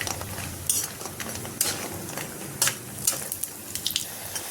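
Market-bought lentil bori frying in mustard oil in a kadai, a steady soft crackle with sharper bursts of spatter and occasional clinks of a utensil, close by and with no one talking.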